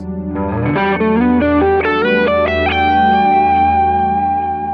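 Electric guitar plays a quick pentatonic lick of distinct notes with effects and reverb, settling onto a sustained final note, loud and alone.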